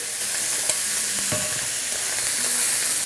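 Vegetables sizzle and fry in a pan for yakisoba, a steady close hiss with faint stirring clatter and a few soft taps.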